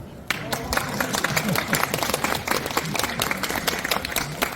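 A crowd at a health lecture in the COEX convention hall suddenly bursts into applause, with brisk, dense clapping that continues steadily, mixed with some voices.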